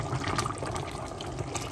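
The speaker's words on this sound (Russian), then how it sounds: "И я добавлю немного воды, чтобы не подгорело." Water splashes and sizzles into a hot pan of frying meat, a continuous hissing, gurgling wash at moderate volume with no voices.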